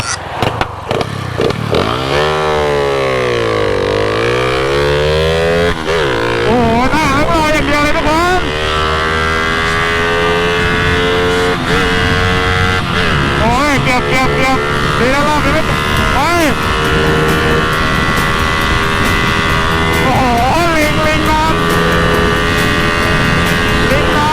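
Yellow sport motorcycle launching hard and revving up through the gears on a test ride, a loud, close engine roar rising and falling in pitch, with people talking and shouting over it.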